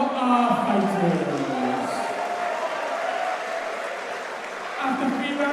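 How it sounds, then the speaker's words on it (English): A crowd at a fight event applauds both fighters, steady clapping and cheering heard under a loud announcer's voice over a PA. "Ladies and gentlemen, please have a round of applause for both of our fighters."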